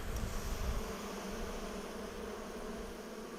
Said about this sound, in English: blowing a bit more smoke into the hive. You'll notice that smoke will agitate at first.